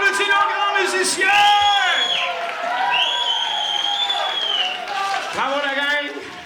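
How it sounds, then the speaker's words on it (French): A crowd at a Saint-Jean-Baptiste celebration claps and cheers for musicians, with loud whoops and shouts over sustained applause and voices calling out throughout. "On applaudit nos grands musiciens!"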